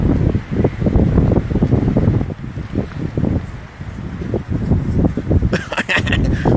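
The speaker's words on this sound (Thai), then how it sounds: "อ๋อลมละ" Wind gusting across an outdoor microphone at Gyeongbokgung Palace in Korea, a loud, steady low rumble and buffeting that runs throughout, with a brighter, rougher gust near the end.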